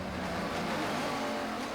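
GT race cars at the Knockhill circuit in Scotland, including a Ferrari, roar steadily past as a continuous, loud engine drone with no pauses or voices over it.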